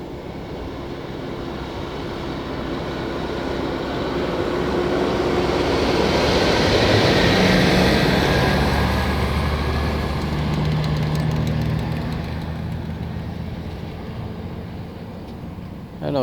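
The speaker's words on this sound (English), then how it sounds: "we see how many vehicles are passing by" Traffic on a road during a lockdown in Portmore, St. Catherine, with a broad engine and tyre rumble that swells as a vehicle passes close and then fades out.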